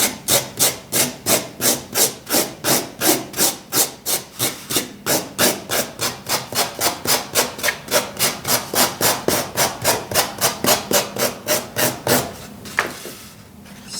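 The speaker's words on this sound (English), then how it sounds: "This is a microplane. And we just dig away at it." Microplane rasp dug into carving foam in fast, even back-and-forth strokes, about thirty rhythmic scraping rasps close up, ending with a brief pause and a softer rub.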